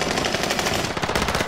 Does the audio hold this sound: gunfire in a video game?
yes